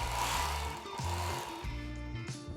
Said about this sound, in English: I'm going to turn the grinder on and slowly push that blade out